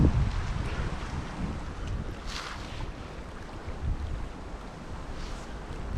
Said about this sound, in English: It's a little bit windy today, not too much.